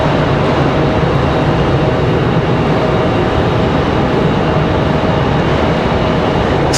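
A Delta Boeing 737 airliner arriving from Atlanta at Raleigh Durham airport produces a continuous, loud broadband roar of jet engine noise that holds steady throughout.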